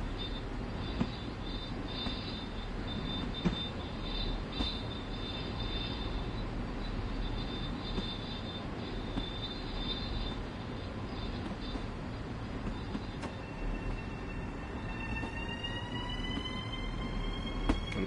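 A Long Island Rail Road train runs in Train Sim World, a steady rumbling drone with rhythmic clicks of wheels over rail joints and a rising whine of traction motors near the end, constant and moderately loud.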